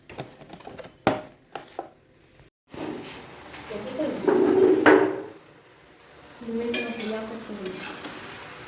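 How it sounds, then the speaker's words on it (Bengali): Prawns sizzle and are stirred in a pan, with clattering scrapes early on and a louder frying hiss swelling midway, while people talk over the cooking. "চিংড়িগুলো ভাজা হয়ে গেছে"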